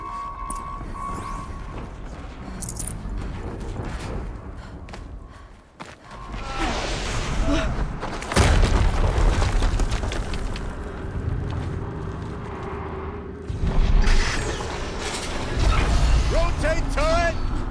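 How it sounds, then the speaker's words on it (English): Explosions go off in the video game Horizon Zero Dawn, several sudden booming bursts with crashing debris, among them a heavy blast near the middle and another toward the end, over dense in-game noise with a voice speaking. "Another explosion."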